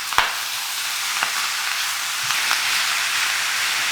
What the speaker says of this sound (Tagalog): kailangan pa natin itong i-sear hanggang sa makapag-extract tayo ng enough na mantika